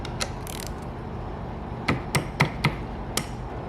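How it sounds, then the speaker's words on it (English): Ratchet work on a 12mm socket loosening a bolt on a Toyota Tundra transfer case actuator beside an A750 transmission: a few sharp metallic clicks and knocks, mostly single with a quick cluster of three, close and moderately loud over quiet shop background. "Then I'm gonna loosen this one. So I've got my 12mm socket."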